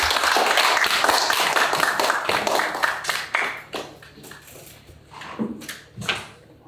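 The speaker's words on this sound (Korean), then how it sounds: "우리 큰 박수로 환영해 주시기를 바랍니다." An audience at a lecture forum claps to welcome a speaker, with dense clapping at first that thins into scattered, separate claps as it dies away.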